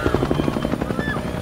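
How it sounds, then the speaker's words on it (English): An emergency escape helicopter in an animated TV series flies with loud, steady rotor chop, rapid even thumps with engine whine throughout, heard alone. "I'm using my emergency escape chopper to go somewhere safe."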